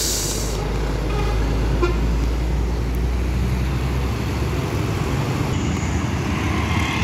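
A CKJ Evolander bus sounds its telolet horn, a loud sustained melodic toot over the engine's low rumble, then fades as the bus passes.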